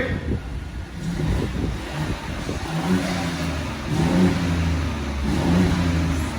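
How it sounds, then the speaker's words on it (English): A 2018 BMW 1 Series three-cylinder engine fitted with a new dual exhaust after a back box delete revs a few times, a throaty rise and fall of engine note heard close up without speech. "Rev it a couple of times, yeah."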